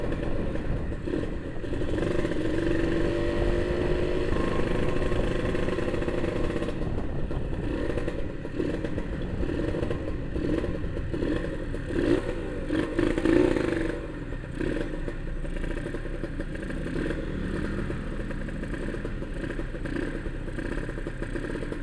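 A Kawasaki Victor 150 SE motorcycle, ridden out after sitting parked for about a year, idles and runs with a steady, smooth engine drone, close by, with slight clattering and small shifts in revs.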